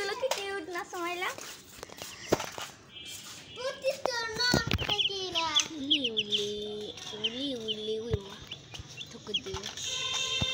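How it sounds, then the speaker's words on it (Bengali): Chickens cluck and call close by on a farm, a run of short pitched cackles rising between bursts of background noise while a person talks over them. "দেখেন মুরগিগুলো কি কিউট না"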